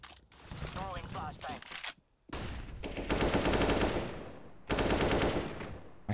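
Rapid automatic gunfire from the video game Counter-Strike: Global Offensive comes in loud, dense bursts separated by short pauses, with a voice talking over the start.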